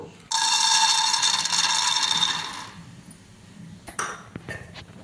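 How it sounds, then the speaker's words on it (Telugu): Raw peanuts poured into a pan for roasting as part of a Telugu stuffed brinjal curry, a bright rattling cascade of nuts hitting metal for about two seconds, then a few scattered clinks as they settle. "అయితే మనం పల్లీలు అయితే వేయించుకుందాము"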